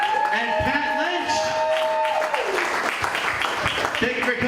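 An audience at a comedy night bursts into a steady wash of applause and clapping for the comedians, rising from under a brief tonal sound to fill the rest of the moment at a fairly loud level.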